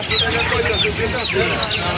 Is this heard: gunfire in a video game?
no